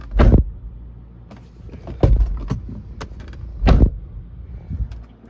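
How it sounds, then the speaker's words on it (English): A Rivian electric pickup truck's door shut several times, each a short, fairly hollow thud with a brief rattle, heard close up with quiet gaps between closings. "I don't like the way the door sounds when you close it."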